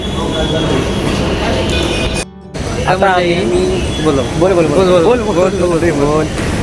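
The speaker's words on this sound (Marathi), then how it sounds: "आपण आता प्रवेश केला आहे मरून नाक्याच्या अंडरग्राऊंड मेट्रोमध्ये आता आपण प्रवास करत आहोत" Underground metro train in Mumbai running through a tunnel, a steady loud rumble and rush with a short dip in level, while people talk over it.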